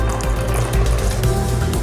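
Tap water runs steadily from a kitchen faucet in Jeddah, Saudi Arabia, filling a container with a loud, continuous gushing close by.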